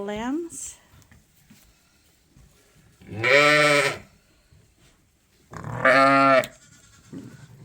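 Suffolk sheep and lambs on a farm give two loud, drawn-out bleats several seconds apart, with a shorter high call at the start and quieter farmyard noise between.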